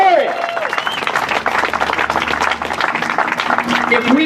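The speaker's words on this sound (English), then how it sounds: "Please give yourself a round of applause" Crowd applause at an End the Fed rally in Philadelphia, sustained clapping with scattered voices and a few shouts rising through it, loud and continuous from start to finish.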